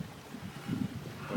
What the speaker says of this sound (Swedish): nu blåser det på ganska bra här